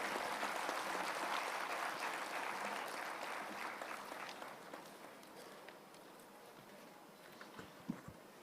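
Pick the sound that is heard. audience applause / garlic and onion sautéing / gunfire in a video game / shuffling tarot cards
audience applause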